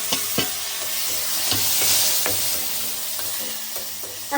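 Onions and tomatoes frying in a pan for Maggi noodles give a loud, continuous hiss, punctuated by sharp clicks and scrapes from a spatula stirring at an uneven pace.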